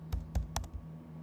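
Several quick keystrokes clatter on a computer keyboard during a word-guessing game app tutorial, coming in a short irregular burst of four or five clicks over a low background hum.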